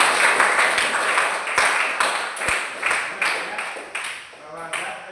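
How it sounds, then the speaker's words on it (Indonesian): A class claps hands in applause, a run of bright rhythmic clap bursts in a room, fading in and out as a few trailing claps finish. "Baik, tepuk tangan dulu."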